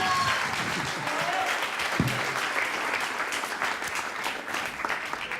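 A crowd claps in sustained applause at a televised song contest final, bright and steady throughout, with a brief sharp thump partway through.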